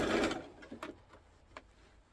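Sewing machine stitching fabric panels together for a ballroom dress, a brief close burst of whirring followed by a few quieter mechanical ticks and clicks.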